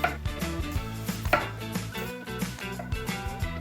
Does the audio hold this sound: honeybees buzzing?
no